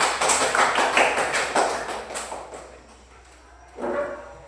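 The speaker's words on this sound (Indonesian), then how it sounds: "Tepuk tangan." Children in a classroom clap hands together, a burst of scattered claps that tapers off, followed by a brief voice.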